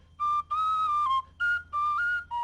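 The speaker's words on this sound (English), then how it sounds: "So we decided to use lighter instruments like the tin whistle." Tin whistle playing a light melody in a children's story theater game soundtrack, bright sustained notes in several phrases with short breaks, clear and close with a soft low backing underneath.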